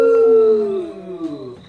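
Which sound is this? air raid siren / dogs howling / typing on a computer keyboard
dogs howling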